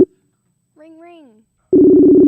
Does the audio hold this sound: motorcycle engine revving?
no